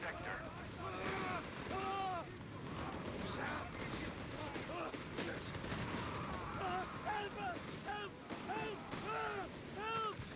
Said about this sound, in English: That's a lot of fire going down for not a lot of casualties.